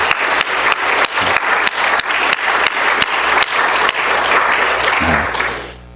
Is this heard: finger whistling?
no